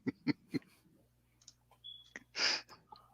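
A computer mouse clicks several times in quick succession, sharp close taps, followed by quieter scattered clicks and a breathy rush of noise.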